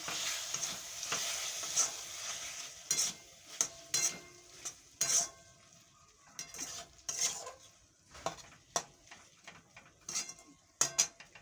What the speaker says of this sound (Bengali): এবার মধ্যে চিংড়ি মাছটা দিয়ে দিই